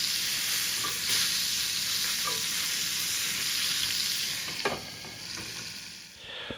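Thick pork tenderloin steaks frying in a hot pan give a loud, steady, close sizzle that holds throughout, with a few faint clinks and a slight drop near the end.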